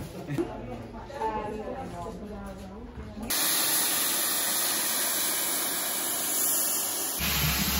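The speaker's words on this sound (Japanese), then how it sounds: "ついに蒸気機関車が到着しました" A steam locomotive pulls into a station on England's Bluebell Railway, its loud, steady hiss of steam filling the second half after a stretch of quieter crowd talk and ambient noise.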